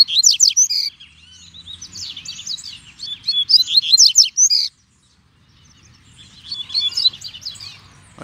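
A double-collared seedeater (coleiro) sings in outdoor brush, delivering several bursts of fast, high, trilling chirps with a short silent pause between phrases, close and clear.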